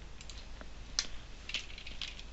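Computer keyboard typing a command into GeoGebra software, heard as a few soft, scattered key clicks at close range over quiet room noise.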